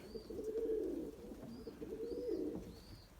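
A pigeon coos nearby in soft, low, repeated rolling phrases, with faint higher chirps from other birds in the background.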